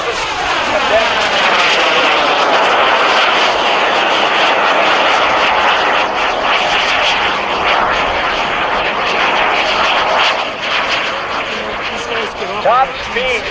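A military jet roars through aerobatic maneuvers at the Cleveland National Air Show, a loud sustained engine roar with shifting pitch sweeping past, while an announcer talks over it.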